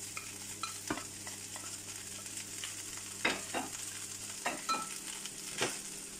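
Rice stir-fried in a pan with meat, eggs and vegetables: a steady sizzle broken by repeated scraping and stirring strokes of the spatula, close by.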